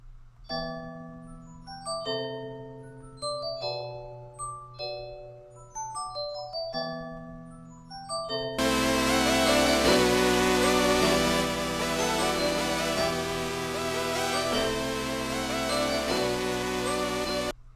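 Bright synthesizer bell tones (London Bell preset) play a melodic pattern, then a second bell layer (Fantasy My Bell) joins, thickening into a dense, sustained, louder chime texture.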